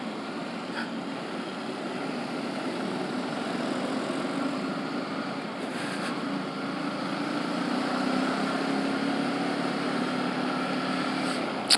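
A motorcycle engine droning steadily while riding along city and residential streets, a continuous low hum with road and wind noise and slight swells in pitch, with no talk over it.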